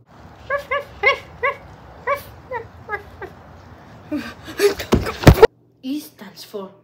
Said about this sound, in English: D stands for doggy.